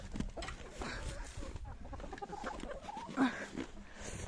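Soft, scattered clucking from chickens close by in a snowy, icy village, with rustling and footsteps in the background.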